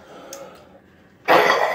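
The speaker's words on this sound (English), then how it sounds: "I cough so hard I see sparks." A single harsh, forceful cough bursts out near the microphone after a stretch of quiet breathing and faint background sound.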